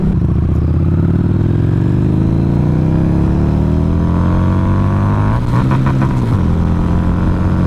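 A Harley-Davidson motorcycle engine revs up through rising pitch, climbing steadily, then a clattering missed shift and a brief drop before pulling again, loud and close.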